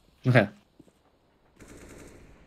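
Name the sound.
gunfire in CS:GO video game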